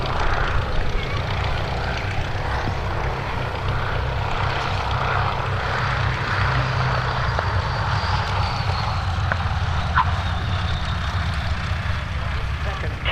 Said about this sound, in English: Touching down in the Prince Bernhard of the Netherlands coloured machine.